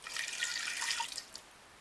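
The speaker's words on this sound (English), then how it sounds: "And I'm going to add some water." Water poured into a cooking pot holding meat for Cameroonian jollof rice, a steady splashing stream for about a second that tapers into a few faint drips, no talking.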